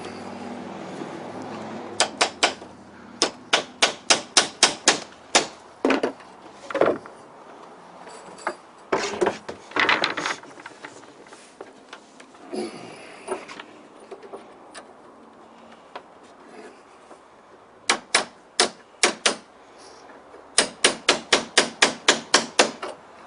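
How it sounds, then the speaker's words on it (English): A hammer drives concealed fasteners into deck boards on a joist, rapid runs of sharp, loud, evenly spaced blows repeating in several bursts with scraping and handling noise between them. "Start nailing off."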